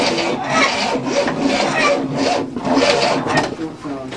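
A 1967 Cadillac engine runs after its timing was retarded, with a close, continuous rasping, squeaky scraping in an uneven rhythm.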